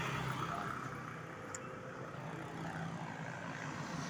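Highway traffic roars steadily from nearby vehicles, a broad continuous rumble with no distinct passes or gaps.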